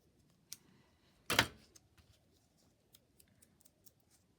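Scissors trim the corner of a paper envelope with one crisp close snip, surrounded by faint paper rustles and small ticks in a quiet room.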